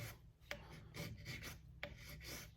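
A Baco hand scraper shaves pitting from a Mercedes alloy wheel in short, faint scraping strokes, close and quiet, with a couple of sharper clicks between passes and no voices.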